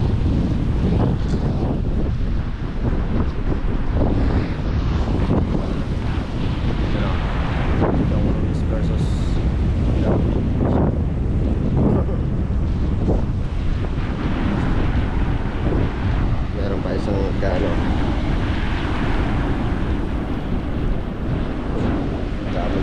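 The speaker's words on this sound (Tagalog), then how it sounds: "Malakas kasi ang hangin mga kapit oh" Strong wind buffeting the microphone with a loud, continuous roar and rumble that never lets up, with a voice faintly audible beneath it.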